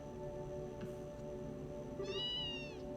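A pet cat in the video game Trails in the Sky SC gives one short rising meow near the end, over a quiet bed of game music.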